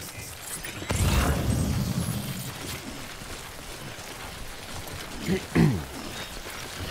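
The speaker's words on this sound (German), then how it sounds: "Lass doch den Regen weg." Steady rain hisses through the scene in Death Stranding, a dense wash of falling drops with a few louder splashes and bumps, and a voice speaks briefly over it.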